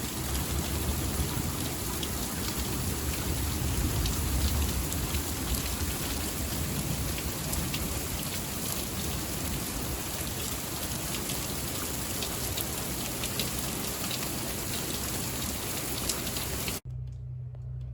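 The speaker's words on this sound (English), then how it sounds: "It is now pouring and there's so much rain coming down." Heavy rain pours down steadily outside a house, a dense, loud and continuous roar of drops with low rumbling underneath, broken only by a sudden drop in level near the very end.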